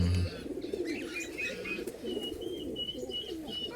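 Racing pigeons cooing in a loft, a female from a butterfly-type set among them, with soft low repeated coos and a few faint chirps close by, no talking.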